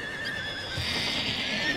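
Cartoon horses neighing and whinnying in a show-jumping setting, a steady, fairly close whinny with a bright tonal sweep holding through the short stretch, with no talk over it.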